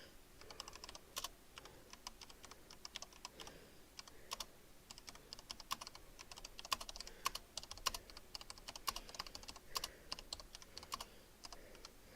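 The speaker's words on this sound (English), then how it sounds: "Sorry, I'm a very bad typer," Fingers type on a computer keyboard in quick irregular bursts of light clicks and taps, close and fairly quiet, with short pauses between runs of keystrokes.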